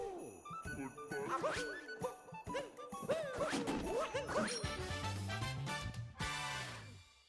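Stacked boxes tumbling over in the video game Super Mario Odyssey, a dense clattering run of knocks, thwacks and chiming tinkles lasting several seconds, then a final bright jingle, with no talking.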